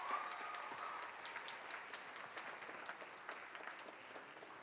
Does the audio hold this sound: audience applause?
yes